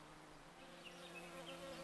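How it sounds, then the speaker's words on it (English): Steady, soft buzzing of many bees droning together around a hive box in the Japanese countryside in early spring, a continuous hum with a few individual insects flying in and out nearby. "It didn't take long for the bees to find one of the boxes."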